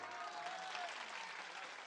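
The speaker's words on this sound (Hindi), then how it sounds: "एक बार जोरदार तालियां आप बजा दीजिए" Dense, sustained clapping fills the hall from the audience at a kavi sammelan poetry gathering in Bheemgarh, a loud, even wash of applause with no break.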